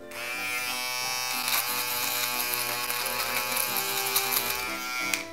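A small electric beard finishing trimmer runs with a steady, close, continuous buzz for the whole stretch, with no talking over it.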